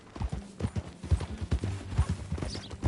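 Steady, rhythmic hoofbeats of a horse ridden along at a trot in Red Dead Redemption 2, close and clear, with faint background ambience and little talk.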